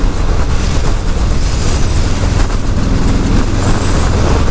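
A 2018 Harley-Davidson Street Bob FXBB Softail with the 107 engine pulls hard in sixth gear, giving a loud, steady low engine rumble buried in heavy wind roar.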